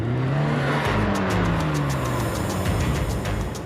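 A Tomcar off-road vehicle revs hard and accelerates, its engine pitch sweeping up and down in loud, close roars with a hint of tyre noise, sustained throughout.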